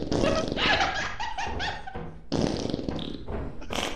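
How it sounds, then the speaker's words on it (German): Whoopie cushion in Lethal Company letting out long, loud, sputtering fart blasts, two bursts separated by a short pause. "Das Furzkissen."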